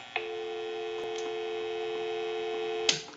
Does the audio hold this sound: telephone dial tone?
yes